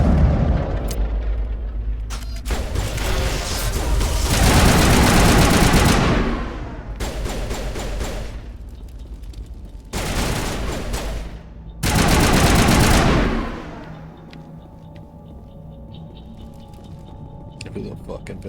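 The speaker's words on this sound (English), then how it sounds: "expensive burst fire sniper rifle" Burst-fire sniper rifle shots in Mass Effect: loud, close bursts of gunfire come in several separated volleys, each lasting a second or more, with quieter game sound and voices between them.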